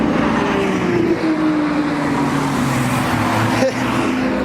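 A Porsche 918 passes by on a road, its engine note sweeping steadily downward as it goes by at moderate distance amid ongoing traffic noise.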